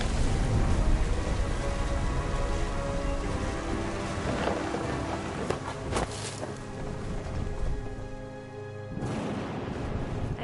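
Thunderstorm in a video game: steady heavy rain hisses throughout while deep thunder rumbles roll in and out, with a sharper crack midway, close and powerful, no voices.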